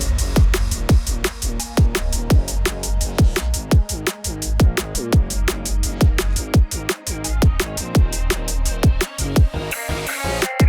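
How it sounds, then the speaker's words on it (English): An electronic music track produced in Ableton Live plays loudly and continuously, with punchy kick drums, sharp percussive hits and sustained synth layers in a steady driving rhythm, and no voices. "Here I've got this excerpt from a track that I've been working on and it sounds like this."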